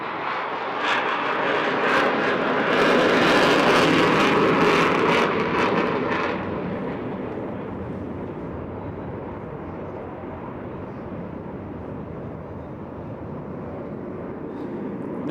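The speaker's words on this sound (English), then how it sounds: "Very shortly here, kick in those burners again and power off." Jet aircraft at an air show lighting its afterburners: a loud, broad roaring rush swells over the first six seconds, then settles into a steadier, softer distant rumble.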